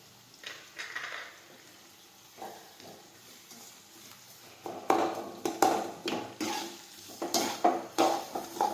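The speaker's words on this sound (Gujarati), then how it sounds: "હવે બધા મસાલા છે તે મિક્સ કરી દઈશું." Spices are stirred into kantola vegetable in a pan, giving soft, faint scraping strokes that grow into a rhythmic run of louder stirs in the second half.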